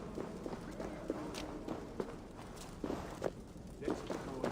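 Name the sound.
footsteps in Assassin's Creed Valhalla video game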